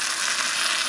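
Macaroni and cheese crisps in a hot frying pan on the stovetop, a steady close sizzle that stays level throughout.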